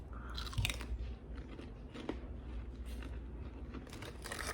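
A warm, freshly made cinnamon crisp, a Mexican fried dessert, is bitten and chewed up close, with soft crunches and moist chewing that repeat over a few seconds, faint and intimate, with no speech.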